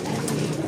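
Pigeons cooing in a loft or coop, a steady low murmur of overlapping coos with some broadband rustle, fairly close and continuous with no talking.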